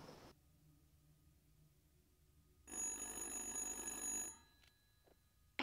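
An old-style telephone bell rings in the video game Little Hope, a bright electronic trill lasting a second and a half amid otherwise quiet, eerie ambience, with a faint click after it stops.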